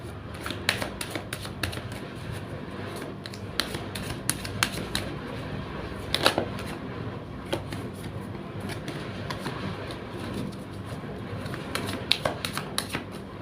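Tarot cards being shuffled by hand make a steady, close run of soft riffling clicks and taps that carries on through the whole stretch with no speech.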